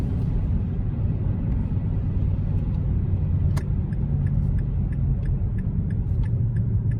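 A 2008 Mazda 3 car engine rumbles steadily as it gains speed, a continuous low drone with faint light clicks and ticks scattered over it.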